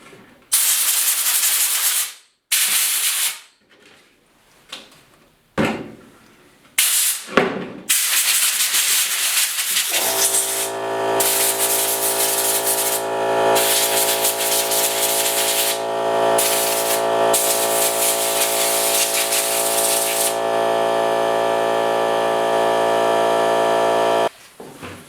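Compressed air blasts through soaked steering wheel parts from a 1956 Mercury pickup, a loud hissing spray in short bursts at first, then a long continuous rush over a steady machine hum.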